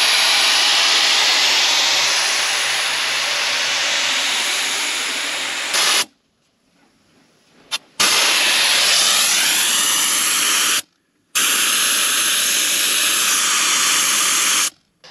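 Loud, steady hiss of air rushing out of BFG KO2 10-ply tires being aired down to 30 psi on a Sprinter 4x4 van, broken by brief pauses as the valve is released and reapplied, with no talk.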